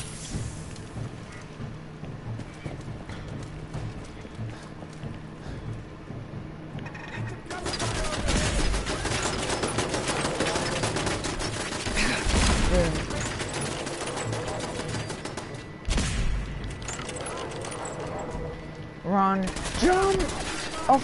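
Enemies fire on the player in Fallout 4, with bursts of gunshots over constant game noise. They swell louder in the middle stretch, and a person talks at times.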